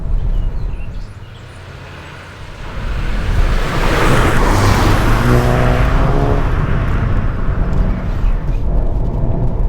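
A VW GTI hatchback's 230-horsepower engine drones and builds as it accelerates along a road, with loud wind and road rumble throughout and a brief quieter dip early on.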